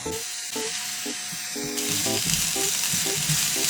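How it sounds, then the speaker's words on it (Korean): Mushrooms and broccoli for a frittata filling sizzle and fry in a pan, a continuous close hiss with scattered clinks from stirring. The frying grows slightly louder partway through. "프리파타 속재료 먼저 볶아줄게요."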